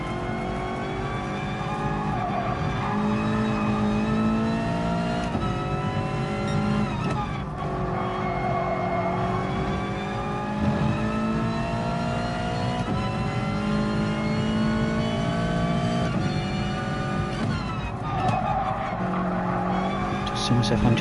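A Gr.4 race car in a racing video game roars continuously, with engine revs rising and falling and tires squealing and skidding under braking. Someone commentates over the car sound throughout.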